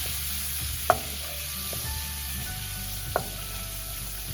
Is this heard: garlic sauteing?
yes